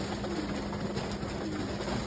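Domestic pigeons coo softly and continuously, a faint low murmur within steady background noise.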